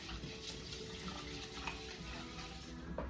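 Rice is swished and stirred by hand in a bowl of water, a faint, continuous soft sloshing with small splashes close by.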